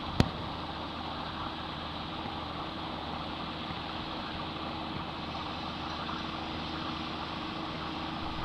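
A tractor's engine idles with a steady low rumble as it turns in a field during a fertilizer or lime spread pattern test, close and constant throughout, with one sharp click near the start.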